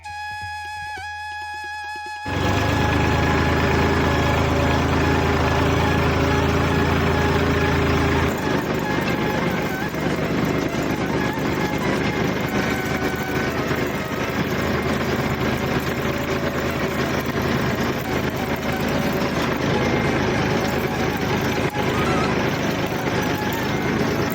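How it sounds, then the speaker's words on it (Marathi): A tractor engine runs steadily while sowing maize in a field, a loud, continuous low rumble that starts abruptly after a brief quiet moment and holds without pause. "कशी चालते मित्रांनो आपली ट्रॅक्टरची पावर"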